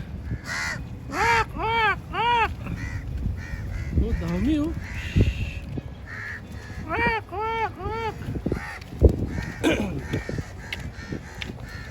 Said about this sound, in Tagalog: Uwak, uwak, uwak.